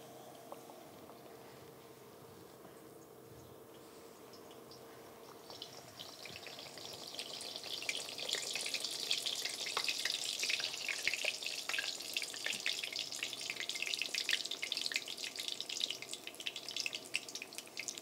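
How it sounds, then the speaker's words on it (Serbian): Lángos dough fries in hot oil, starting as a quiet background hiss that swells after a few seconds into a steady, crackling sizzle with fine popping, heard alone at close range. "Ovako pržite i s jedne strane"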